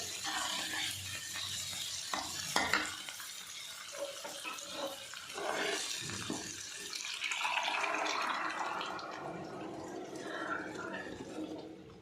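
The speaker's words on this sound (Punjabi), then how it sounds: "ਇੱਧਰ ਸਾਡਾ ਤੜਕਾ ਜਿਹੜਾ ਭੁੱਜ ਤਿਆਰ ਹੋ ਗਿਆ" A dal tadka tempering fries in a pan, giving a continuous crackling hiss that swells and eases, with occasional soft knocks of a spoon; no talking.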